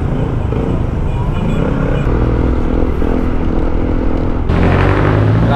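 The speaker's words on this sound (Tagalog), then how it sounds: "Grabe, napaka-traffic." Heavy road traffic on Quirino Highway heading toward Bulacan, with cars and motorcycles rumbling and revving close by in a constant loud drone, a vehicle accelerating near the end, and faint voices underneath.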